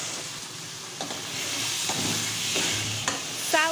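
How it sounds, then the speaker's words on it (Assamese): Soaked basmati rice frying in hot oil with cumin powder, turmeric and salt for Kashmiri pulao, a steady close sizzle with scraping stirring strokes through it and no talking. "চাউলখিনি মই তেলত ভালদৰে ভাজি লৈছোঁ"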